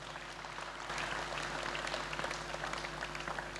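An audience at a deliverance church service claps for Jesus Christ, a moderate patter of hands that swells after a quieter start, with a low steady hum beneath and no speech over it.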